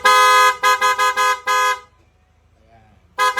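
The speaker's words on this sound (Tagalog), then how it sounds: "So sumasabay na rin dito sa GR5 yung busina." Horn on a Yamaha NMAX scooter fitted with a GR5 horn setup blares loud and close, a long honk then several quick rhythmic toots, a pause, and one more blast.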